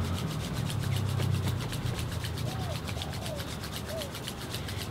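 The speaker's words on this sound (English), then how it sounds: "as we start rubbing the palms" Hands rubbing palms together briskly at the start of a meditation practice, a rapid rhythmic swishing friction, close and steady, with faint background tones.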